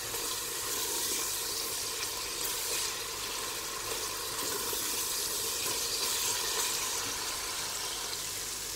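Whole spices fry lightly in oil for matar pulao with a continuous, even sizzle close to the pan. The sound stays level throughout, with no voices.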